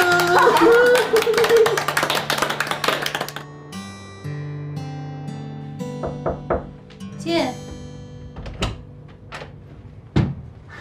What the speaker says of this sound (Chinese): 哎，你鼓什么掌啊？